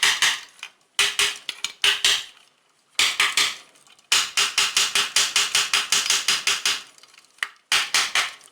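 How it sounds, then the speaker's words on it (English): A wooden hammer taps repeatedly during assembly of an eBay 576 Autotune, sharp close knocks in irregular bursts with short pauses, then a fast steady run of strikes. "This is just a wooden hammer."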